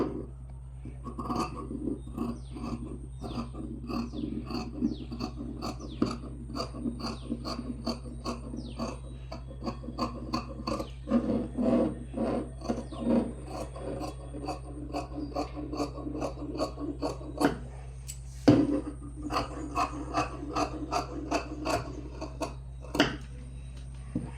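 Lining fabric for a top being cut, heard as a long run of close, quiet, rhythmic rasping snips that come in quick bursts with short pauses, and no talking.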